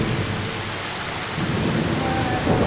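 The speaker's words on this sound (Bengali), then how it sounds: "বৃষ্টি পড়ছে" Steady rain pours down with broad hiss and patter across the whole clip, low rumbling beneath hinting at distant thunder, growing slightly heavier toward the end; no voices.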